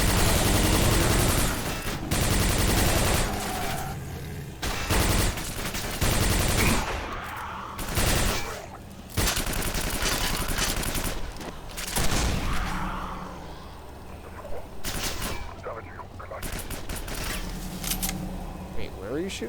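Rapid bursts of gunfire in the PC shooter Quake 4, loud clustered shots and automatic fire that stop and start, with brief quieter gaps between volleys.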